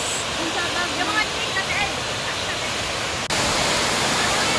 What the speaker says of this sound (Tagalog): Ayan pa, ito yung pinaka-lower na falls niya.